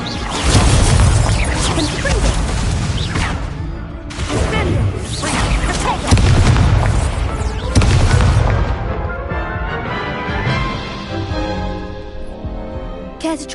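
Incendio fire spells are cast repeatedly in the game Hogwarts Legacy: loud, booming fiery blasts with whooshes and crashes that come in several bursts, then give way to a quieter tail with faint talk.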